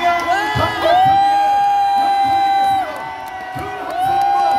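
A large outdoor political rally crowd at a protest against the Fukushima contaminated water release cheers, shouts and whoops in sustained loud waves, with a voice over a loudspeaker cutting through.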